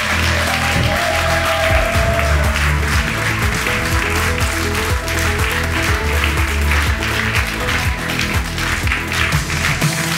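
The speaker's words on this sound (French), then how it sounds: "Un tonnerre d'applaudissements pour Ed et Eda." Audience applause at a children's club stage show as the team leaders are welcomed, loud and continuous with individual claps and taps audible over music and a steady background.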